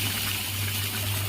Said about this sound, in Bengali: এই গরম জলটা দিয়ে এই ফোড়নটা ভরে দেবো